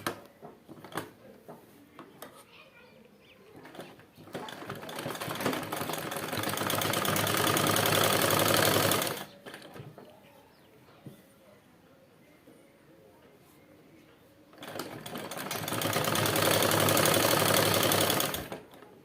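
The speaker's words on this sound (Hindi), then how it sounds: "सीधी साइड हमें इधर की तरफ रखते हुए यहाँ सिलाई लगा लेनी है अंदर से। पूरे में सिलाई लगा लेनी है।" An electric sewing machine stitching a Nyra cut kurti, running in two long steady whirring bursts separated by a quieter pause filled with fabric handling and someone talking.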